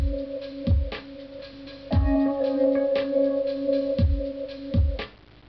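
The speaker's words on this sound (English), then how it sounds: "It consists of a drum beat, and I've layered some piano on top of that" A short looped drum beat with punchy kicks and snappy hits runs under sustained piano chords layered on top.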